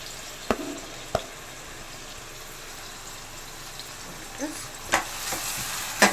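Prawn curry ingredients fry in hot oil, a steady soft sizzle broken by a few sharp clicks and scrapes of stirring, close by and fairly quiet.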